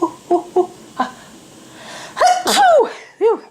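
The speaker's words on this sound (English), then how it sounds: "it made me sneeze" A single loud, close sneeze with a sharp burst, preceded by a few short breathy catches and followed by a brief exhale.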